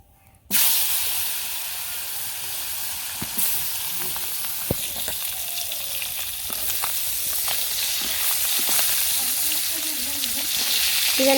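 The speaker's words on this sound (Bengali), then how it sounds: "তেল গরম হয়ে গেছে জিরা দিয়ে দিছি এখন মাছগুলো দিয়ে দিই" Koi fish (climbing perch) hit hot oil with cumin seeds and set off a sudden loud, steady sizzle and hiss that keeps crackling close by for several seconds.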